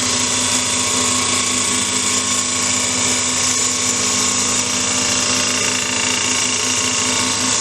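A gouge cuts the outside of a wooden bowl spinning on a wood lathe, giving a steady, loud, high-pitched whine with a constant hum underneath, running without pause and with no talk.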